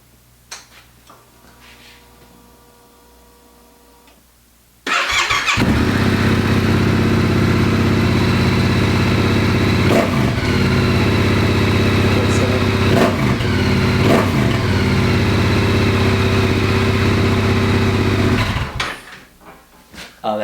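A Yamaha Tenere 700 motorcycle fitted with an LV EVO Black Edition exhaust cranks and fires up, then settles into a loud, steady, throaty idle for about fourteen seconds before shutting off, preceded by quiet ticking.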